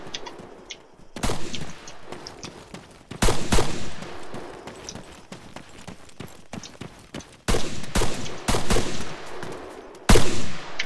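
Gunfire in the ArmA combat video game during a FolkARPS multiplayer session, sharp bursts and volleys of shots, some loud and close with rolling echoes, others fainter, broken by brief lulls.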